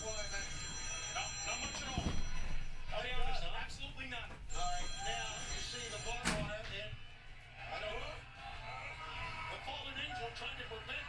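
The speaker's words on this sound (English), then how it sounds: "I don't know if you hear the phone ring in the background." A work phone with a house-style ring trills repeatedly in the background, steady electronic rings persisting under someone talking over them throughout.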